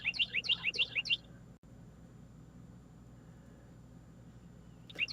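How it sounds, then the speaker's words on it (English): A bird chirps in a quick run of bright, repeated tweets for about a second, then falls quiet over low background hum before a single chirp returns at the end. "That stinking bird noise."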